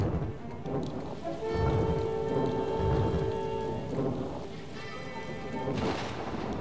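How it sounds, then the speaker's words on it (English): Steady rain pours from a stormy cloud in a video game, with low rumbles of thunder rolling underneath and a faint tonal game chime layered over the downpour. "Stormy clouds they are as well."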